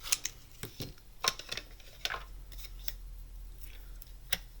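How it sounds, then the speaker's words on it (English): Scissors cut through cardstock with sharp, close snips and crisp paper rasps, coming in an irregular series of quick cuts over a quiet background. "I'm just going to cut my cardstock"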